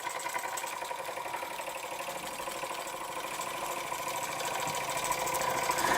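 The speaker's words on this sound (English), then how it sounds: "there we have a Weeden 648 steam engine with a Jensen heater, which seems to work quite well." A Weeden 648 model steam engine heated by a Jensen heater runs at a steady rapid chuff, a fine continuous mechanical whirr with a faint rhythmic knock underneath, close and gradually growing a little louder.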